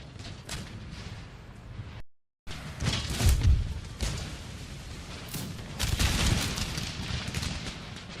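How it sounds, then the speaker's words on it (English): Massed musket volleys in the strategy game Empire Total War, heavy crackling bursts and booming thuds rolling over one another loudly, with a short silent gap after the opening volleys. "It's just an absolute blaze of gunfire"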